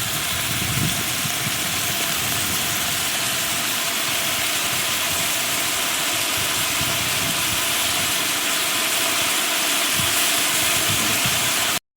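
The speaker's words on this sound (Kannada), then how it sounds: "ಚೆನ್ನಾಗಿ ಫ್ರೈ ಮಾಡ್ಕೋಬೇಕೀಗ" Onions and coriander leaves fry in a pan with a loud, continuous hiss and sizzle that holds evenly from start to finish.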